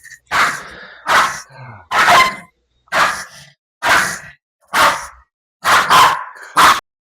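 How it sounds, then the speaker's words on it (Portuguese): An aggressive Shih Tzu lets out eight sharp, high-pitched barks in an uneven rhythm, close and loud, with silent gaps between them. "Percebe também que o tipo de latido já mudou, tá? Tá um latido agudo."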